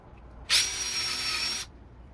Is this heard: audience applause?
no